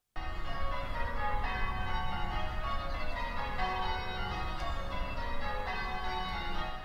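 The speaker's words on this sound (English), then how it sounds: "church bells ring out across New York City for a full half hour" Church bells across New York City ring continuously in overlapping peals, a full, resonant clangor that carries on without pause.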